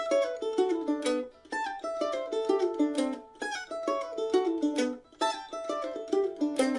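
Mandolin triplet exercise with pull-offs on the descending notes, rapid plucked runs falling in pitch in repeated phrases with brief gaps between them, played solo and close.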